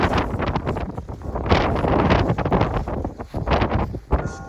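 Strong gusts of a winter storm bringing snow and ice buffet a nearby microphone, roaring in loud surges that rise and fall every second or two, with no talk.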